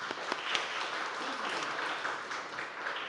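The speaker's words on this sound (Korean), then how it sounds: "박수" A church congregation applauds during a small gift presentation, a soft, continuous spread of clapping with a few sharper claps near the start, steady and fairly faint throughout.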